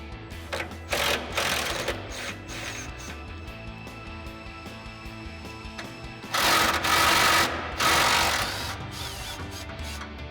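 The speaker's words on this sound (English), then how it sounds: "we'll grab our 13mm socket and extension on our impact and go ahead and get those off" An impact wrench with a 13mm socket and extension removes exhaust hanger bolts on a HEMI Challenger during an MBRP cat-back exhaust fit, giving two short, loud rattling bursts over a steady mechanical hum.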